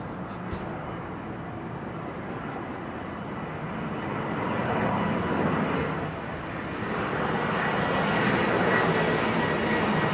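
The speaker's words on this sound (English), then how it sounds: "Look at this E2 jet." An Embraer E2 jet departs Heathrow, its engine roar building steadily and loudly from a moderate rumble to a sustained, broad wash of jet noise that swells toward the end.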